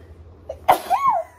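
A single sharp human sneeze in a quiet room, preceded by a brief inhale, close and fairly loud, followed by a short vocal tail.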